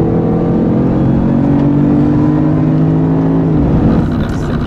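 A Jaguar car accelerates hard on a track, its engine a loud, close, steady roar that climbs in pitch before easing near the end, with no talk.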